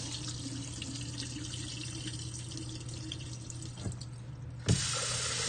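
Tap water runs steadily into a sink while rice is rinsed, a continuous close hiss with a low hum beneath and a brief splash near the end as the flow grows brighter and stronger.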